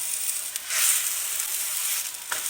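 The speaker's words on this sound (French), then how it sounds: "je continue à retourner les autres jusqu'à ce que je cuise les aubergines des deux côtés" Aubergine slices fry in a pan for moussaka, with a continuous bright sizzle close by and a few soft clicks as pieces are turned.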